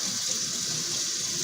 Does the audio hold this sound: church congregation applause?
no